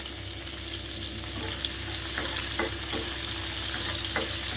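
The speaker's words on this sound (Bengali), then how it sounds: "এই যে পেঁয়াজ, লঙ্কা আর রসুন যে কেটে রেখেছিলাম সেটা দিয়ে দেবো" Chopped onion, green chilli and garlic sizzle gently in a pan over a low flame, with a steady soft hiss and a few light scraping stirs of a spoon partway through.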